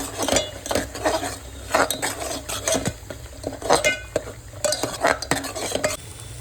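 Spoon stirring a dry mix of red chilli powder, Agri mutton masala and garam masala in a pot, with repeated scraping and clinking strokes in an uneven rhythm, close and fairly loud, with no talking.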